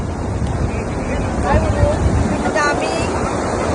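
Waves roll in at Murud Kashid beach, a loud, steady surf roar mixed with wind noise on the microphone, while people talk and call out nearby.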